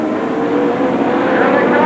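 Stock cars race around the I-80 Speedway in Nebraska, a loud continuous roar of engines with a commentator talking over it.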